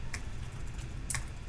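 Two soft, isolated keystrokes on a computer keyboard while entering text in the Vim editor, spaced about a second apart and heard alone over faint background hum.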